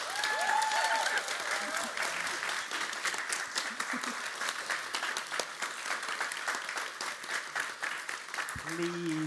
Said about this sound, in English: please, round of applause for our authors